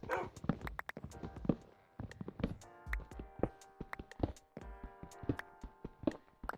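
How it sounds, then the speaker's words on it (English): A dog in the video game Minecraft barks again and again in quick, uneven bursts that sound close and fairly loud, with no talk over it. "At this point, I'm just gonna have to name him Sir Barks a lot."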